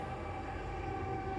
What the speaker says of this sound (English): Sorry about the train. I have the windows open. Sometimes it's really loud if it's a freight train.